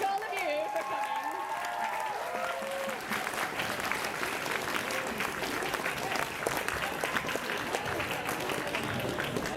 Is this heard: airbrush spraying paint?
no